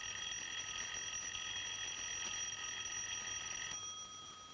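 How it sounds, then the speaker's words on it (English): A doorbell rings steadily and continuously for over four seconds in an indoor room, a bright sustained electric ringing that does not let up and softens slightly near the end. "The bell's ringing, Mr. Jimson."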